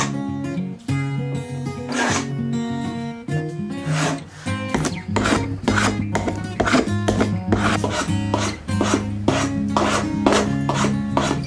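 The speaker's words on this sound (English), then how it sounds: "I'm going to use my round bottom spoke shave to add in the ergonomic details" A round-bottom spokeshave shapes a hammer handle of antique European beech in quick, rhythmic rasping strokes, each a short scraping burst, repeated steadily and close up with no talking.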